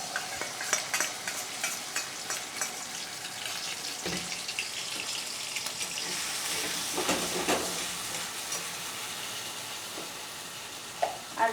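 A mustard-poppy paste fries with pabda fish in a pan, sizzling steadily up close as a spoon stirs and scrapes in repeated strokes, with occasional clinks and no talking.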